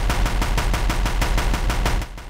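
The Deathbringer gun fires a rapid, steady burst in Horizon Zero Dawn, around a dozen evenly spaced heavy shots that are loud and close, ending abruptly, with no voices.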